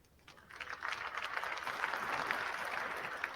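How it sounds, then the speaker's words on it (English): An audience at a tech presentation breaks into applause, the clapping swelling quickly from quiet and then holding steady as a dense, continuous patter. "There they are, clapping. Applause."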